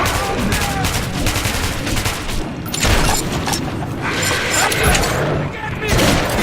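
Gunfire in the video game Metro 2033, loud continuous bursts of shots and booms packed closely together, with voices shouting over the chaos throughout.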